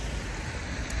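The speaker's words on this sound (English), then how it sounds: "It's raining" Rain falls steadily outside in Cyprus, a faint, even hiss with no distinct drops or voices.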